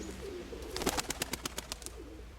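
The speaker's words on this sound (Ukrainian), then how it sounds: "Це мастьовий голуб, забарвлення його мені якраз підходить." A pigeon, a colored fancy breed, gives a brief low coo followed by a fast run of rhythmic pulses, close and fairly clear against quiet background noise.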